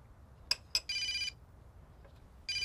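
A mobile phone rings indoors in short electronic trilling bursts, two quick chirps followed by longer rings with a gap between, clear and fairly quiet.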